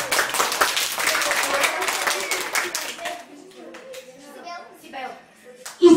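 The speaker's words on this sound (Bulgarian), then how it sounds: "Силно му пляскаме на него." An audience clapping at a children's Christmas event, brisk close applause for about three seconds that then thins out into scattered claps as children's voices and talk take over.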